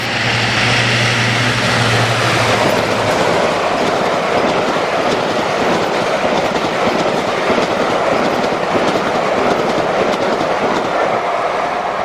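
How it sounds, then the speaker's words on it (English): The Purple Peril locomotive hauls the special 1Z55 railtour from Cleethorpes to Edinburgh past Durham: a loud, close, steady roar of engine and wheels with rhythmic clatter that holds for the whole stretch, with no voices. "Purple Peril passes Durham with a special 1Z55 working from Cleethorpes to Edinburgh"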